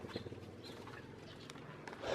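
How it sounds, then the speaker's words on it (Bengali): Pigeons settle back into a rooftop loft coop, heard as faint, soft cooing and light fluttering against a quiet background, ending with a slightly louder rustle. "দেখেন মাসাল্লাহ কবুতরগুলো এসে ঢুকে পড়ছে আবার কোপে।"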